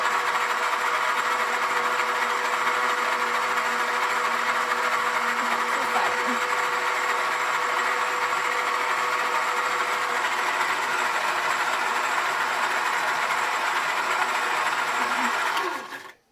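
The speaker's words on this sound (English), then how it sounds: "let it go for a couple of minutes until it's very well creamed" Electric mixer with a whisk creaming butter for cookie dough, a steady close whirring hum running on low without a break for about fifteen seconds, then stopping abruptly.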